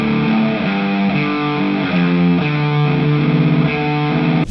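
A dull, muffled electric guitar plays sustained chords through a Valeton GP200 multi-effects unit into an amp, the tone thick and dark with little top end, ending abruptly.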